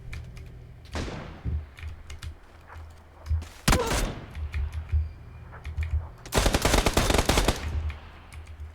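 Bursts of rapid gunfire in the video game PUBG, a sharp volley near the start, a single crack mid-clip, and a long dense automatic burst toward the end.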